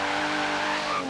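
A Chevrolet Omega 4.1 Turbo drifts in Forza Horizon 3, driven with a G27 steering wheel, its tires squealing continuously and loudly over a steady engine drone for about a second, with no talking.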